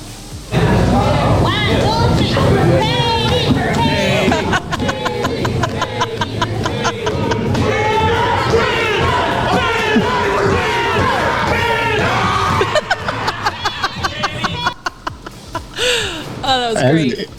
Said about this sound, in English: Raucous crowd.